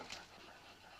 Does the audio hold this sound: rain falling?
no